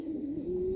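A racing pigeon gives a single soft, sustained coo, low and close, in a quiet loft setting with no talking.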